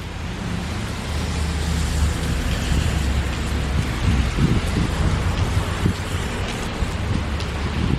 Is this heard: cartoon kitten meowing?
no